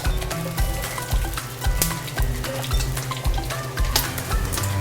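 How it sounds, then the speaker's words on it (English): Bacon crackles and sizzles loudly in a hot pan, with rhythmic stirring or scraping bumps throughout. "while that bacon's sizzling"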